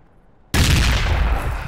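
A grenade blast in the Project Reality war game hits suddenly after half a second of quiet and rolls on as a loud, sustained roar of explosion and debris, with no talking.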